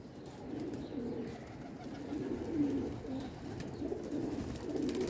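Soft, low pigeon cooing repeats steadily, with several birds murmuring together nearby and no talking.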